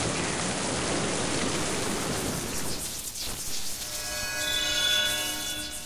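Steady broadband hiss of rain falling in the video game Mind: Path to Thalamus, dense and even for several seconds before thinning slightly as faint tonal game ambience rises underneath.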